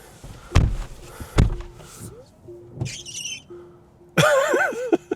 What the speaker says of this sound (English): Let's go ahead and see if that squeak still happens.